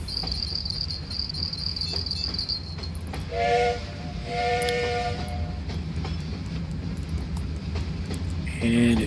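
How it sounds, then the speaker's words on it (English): A train passes in the fishing video game Fishing Planet on the Akhtuba River in Russia, a loud rumbling rail roar with a shrill whistle-like tone, heard over steady chirping insects. "Comes the train back again."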